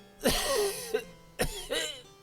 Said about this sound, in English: My throat is grown sore, and I cough day and night.